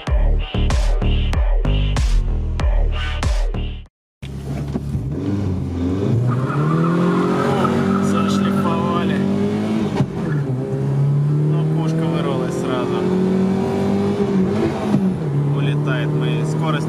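A 16-valve VAZ 2109 drag races an Audi Q7 3.0 TDI. After a brief burst of rhythmic pulses and a short gap, a loud engine revs up and climbs steadily in pitch through the gears, with voices talking over it.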